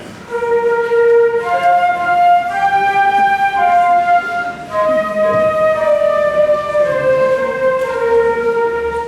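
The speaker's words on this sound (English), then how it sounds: "the flutes sound like this" Several flutes play a steady melody together, clear and sustained, with notes gliding from one to the next.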